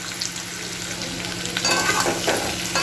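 Green peas fry and get stirred into a spice paste in a pan for a potato dum, with a soft continuous sizzle and scraping stirs that grow slightly louder toward the end.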